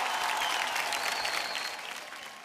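Loud applause from a large studio audience at a Hindi television awards show, dense continuous clapping that holds steady and then tapers slightly toward the end.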